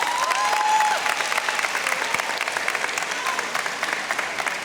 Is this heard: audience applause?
yes